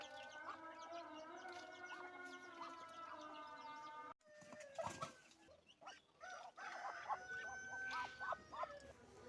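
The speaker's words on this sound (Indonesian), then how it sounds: "Waktunya kasih makan bebek." Ducks being fed at breakfast time, a chorus of honks, quacks and squawks, mostly moderately close, with a short break partway before the calls resume.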